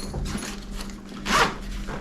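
A zipper opening on a Deuter Aviant Access 38 backpack, a rasping pull with a louder stretch near the end, close and clear with no talk.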